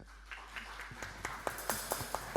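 A church congregation claps for a couple standing in the balcony, a faint, scattered applause of sparse hand claps that builds slightly and grows more regular over a couple of seconds.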